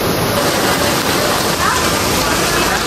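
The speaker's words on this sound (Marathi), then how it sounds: "खूप जास्त जोरात पाऊस चालू आहे एसबी मध्ये, खूप जरा जास्तच." Heavy rain pouring down hard at a college campus, a dense, steady hiss of downpour filling the scene without pause.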